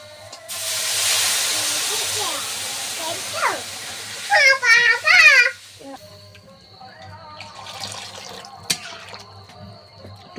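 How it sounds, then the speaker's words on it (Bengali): Water poured into a hot pan of frying potatoes gives a loud burst of steamy hiss that fades into a softer sizzle, with high bird-like chirps and clattering nearby. "আলুটা আমার ভালোভাবে কষা করা হয়ে গিয়েছে এবার জল ঢেলে দেবো"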